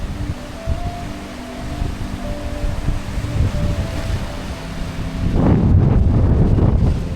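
Cold wind sweeps through a rainy hill-station forest near Matheran, buffeting the microphone with a low, continuous rumble that grows stronger and gustier toward the end.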